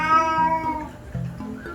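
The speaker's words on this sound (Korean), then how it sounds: "이게 대표적인 고양이가 이제 불만족스러울 때 내는 야옹 소리거든요" A cat gives two drawn-out, complaining meows up close, each sliding down in pitch and then lifting slightly at the end.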